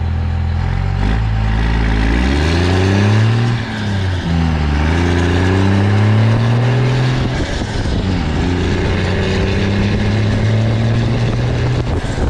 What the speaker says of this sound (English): I'm gonna do a pull, get all the way up to 6th gear so you guys can see it from the rear.